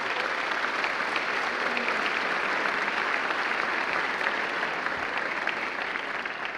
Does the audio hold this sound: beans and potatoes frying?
no